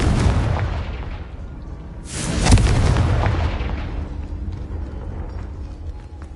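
A Confringo fire spell detonates in a Harry Potter video game: a continuous rumbling roar that swells into one heavy, bright blast midway, then fades into a lingering low rumble.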